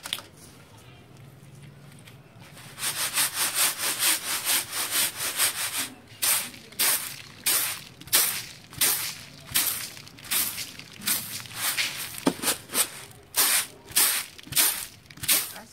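Dried dal is tossed in a winnowing basket, giving a steady series of rhythmic, close rustling swishes as the grains shift and slide against the woven surface, with a soft hiss between the strokes.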